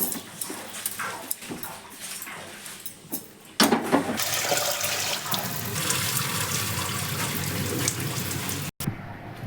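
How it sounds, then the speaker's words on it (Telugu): Roasted toor dal is rinsed in water, with continuous running and sloshing water and swishing close by, growing louder and steadier partway through. "వేయించుకున్న తర్వాత మనం ఇలాగ కొంచెం వాటర్లో వేసి కడుక్కోవాలి."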